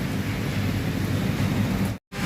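Heavy rain pours over Jalandhar city, heard as a dense, loud, steady roar of falling water close by, with the sound cutting out briefly just before the end.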